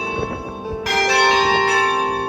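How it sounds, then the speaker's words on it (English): Church bells ring out in Reykjavik, Iceland, with a loud, sustained, resonant peal that swells in suddenly and keeps ringing. "stuck around to hear the church bells ring"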